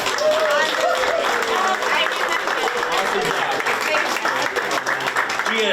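Applause rolls steadily from a crowd at a time capsule kickoff and burial ceremony in East Longmeadow, a dense, continuous wash of clapping with a voice speaking over it.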